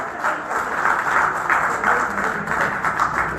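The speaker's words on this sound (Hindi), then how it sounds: "एक बार तालियां डॉक्टर साहब के लिए बजाइए।" An audience applauds a doctor at a public gathering, steady sustained clapping from many hands filling the space without pause.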